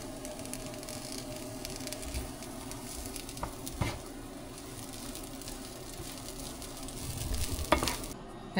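Corn kernels roast with a little salt in a pan, giving a low continuous sizzle with soft rattling stirs and a few louder scrapes, heard up close without speech.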